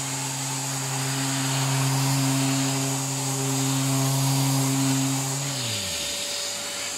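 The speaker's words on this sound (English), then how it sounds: "we'll just give it a wee vac just to be sure" A vacuum cleaner hums steadily and loudly while cleaning a wooden mitred keepsake box, then switches off and its motor winds down near the end.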